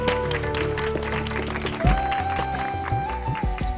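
Studio audience applause at a stage show, a steady dense clapping wash under music, loud and continuous throughout.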